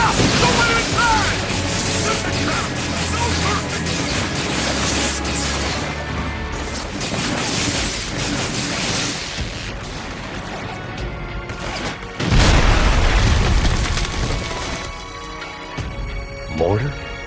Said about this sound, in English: Mortar?